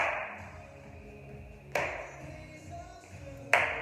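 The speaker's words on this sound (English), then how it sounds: "Add a clap." Two single sharp hand claps ring out in a senior fitness workout class, the second one louder. They are spaced about two seconds apart over a quiet room background.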